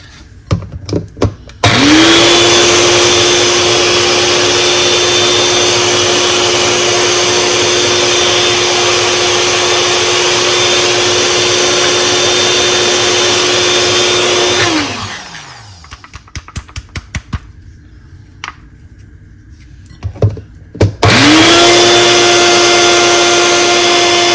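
A blender grinds a pistachio and chocolate coffee drink with the nut husks left on, a loud, steady whirring roar that runs for about thirteen seconds, stops with a few clunks, then starts again.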